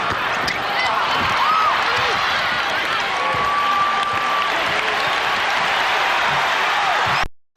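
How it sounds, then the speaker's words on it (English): Home arena crowd cheering and clapping for the Detroit Pistons during a 1991 Eastern Conference Finals game against the Bulls, a loud sustained roar with shoe squeaks and ball bounces, commentary talk running over it before it cuts off. "Crowd looking to urge the Pistons on."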